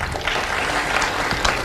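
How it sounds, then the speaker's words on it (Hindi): An audience clapping at a Brahma Kumaris summer camp event, a brief, fairly loud patter of hand claps in a hall. "तालियां बजाइए।"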